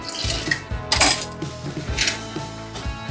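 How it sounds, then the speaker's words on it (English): A knife hollows out the inside of an eggplant, giving a close series of irregular clicks, knocks and scraping strokes against the vegetable and the board. "I'm gonna start first by taking the guts out of the eggplant. So to do this, you will need a knife."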